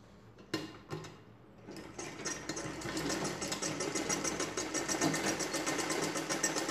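A sewing machine stitches a blouse sleeve: a few sharp separate clicks first, then a steady close, moderately loud run of rapid needle strokes lasting several seconds.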